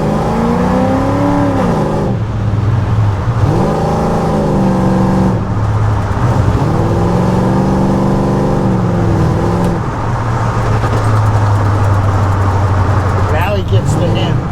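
A modified former police car converted into a truck, driving and revving, its engine rising and falling in repeated pulls, close and steady throughout, with people talking over the motor.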